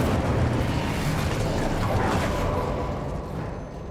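Incendio fire spell in Hogwarts Legacy, a loud, sustained roaring blast of flame that rumbles steadily for a few seconds and then slowly eases off.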